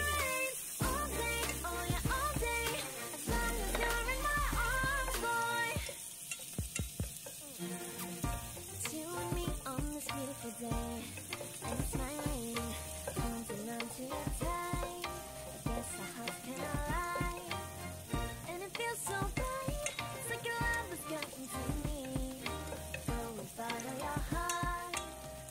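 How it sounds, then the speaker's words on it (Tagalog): Onion and garlic frying in two tablespoons of oil for an Arabic dish, a steady, fairly loud sizzle with stirring scrapes running throughout, no voices. "kumuha ako ng 2 tablespoon ng oil basta pinapriprihan natin ng onion"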